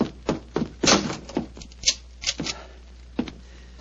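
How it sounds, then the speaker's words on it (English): A radio drama door effect: a door is shut and locked, a run of sharp thuds, knocks and small clicks spaced unevenly over a few seconds, close and clear with no speech. "lock the door behind you"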